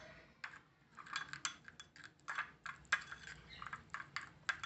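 A spoon clicks and scrapes against a bowl while stirring a multani mitti face pack with sandalwood, turmeric powder and rose water, giving quick irregular taps close by in a quiet room.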